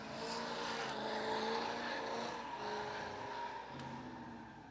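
A supercharged 6.0-liter drift car of over 500 horsepower roars steadily at a drift pit, its engine note holding loud, with some tire scrub and a passing sweep at moderate distance.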